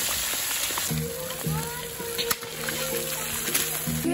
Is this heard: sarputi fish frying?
yes